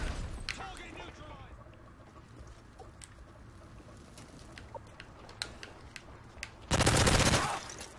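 Submachine-gun fire in Call of Duty Modern Warfare 3 Search and Destroy, a sharp rapid burst near the end after scattered faint shots and clicks, heard close and loud following quiet stretches of a player talking.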